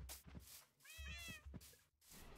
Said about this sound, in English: Just a little kitty.